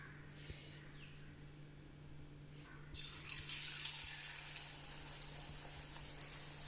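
Batter-coated pappadam pieces frying in hot oil for pappadavada, quiet at first, then a bright steady bubbling sizzle bursts up after a few seconds and holds, close by, with no one talking.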